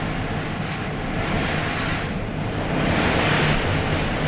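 Hurricane Irma's storm drives wind and water against a house in a loud, unbroken roar, heavy rushing noise that swells toward the end, with no voices.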